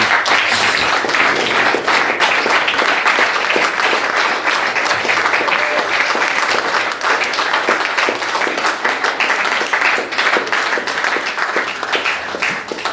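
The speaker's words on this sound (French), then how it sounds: "Si vous voulez l'applaudir." Sustained, loud applause from a church congregation fills the space evenly, a dense wash of many hands clapping without pause.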